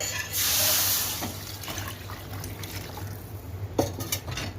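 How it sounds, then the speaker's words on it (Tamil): Tamarind water is poured into a pan of fish curry with a brief splashy rush, followed by quieter sloshing and a few faint clinks. "நம்ம கரைச்சி வச்சுருக்க புளி தண்ணியை அதில் சேர்த்துக்கலாம்"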